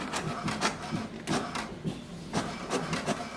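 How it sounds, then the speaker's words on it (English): An HP DeskJet 2800e printer prints a page, its mechanism whirring steadily up close with repeated rhythmic carriage passes and clicks, no voices. "It will send a command for the printer to print the page."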